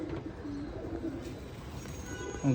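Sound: pigeon cooing

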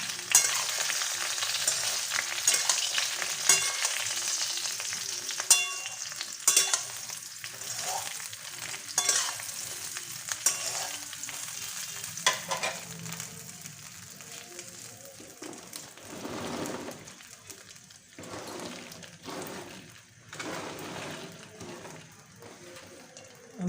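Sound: stirring jujube pickle with spices in pan

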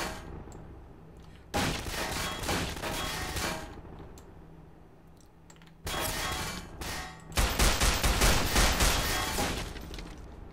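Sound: gunfire in the video game Estranged: Act 1

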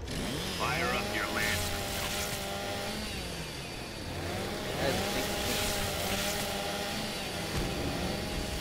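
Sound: chainsaw revving in the video game Gears of War 2

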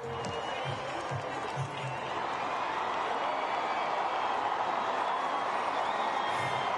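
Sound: crowd cheering at Olympic flame arrival in Marseille

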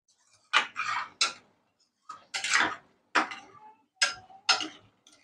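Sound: mixing paneer into yogurt and peanut gravy in pan

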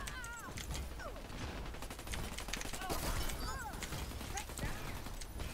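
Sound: gunshots in video game Dirty Bomb

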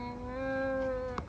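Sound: cat meowing

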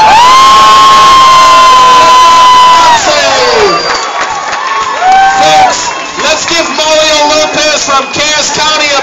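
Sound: crowd cheering and applauding after a boxing bout

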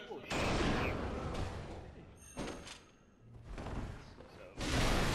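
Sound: gunfire in a video game

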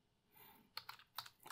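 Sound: typing a command on a computer keyboard

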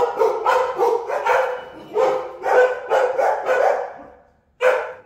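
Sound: Belgian Malinois dog barking

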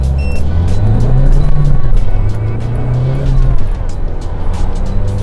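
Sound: Isuzu 1.9 pickup accelerating 0 to 100 km/h, tuned mode

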